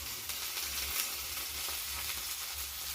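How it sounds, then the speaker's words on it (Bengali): Onions frying in a pan make a soft, continuous sizzle with faint crackles and occasional stirring scrapes, fairly quiet and close, with no one speaking. "পেঁয়াজটা ভালো ভাজা হয়ে গেলে একটু আদাটা দিয়ে"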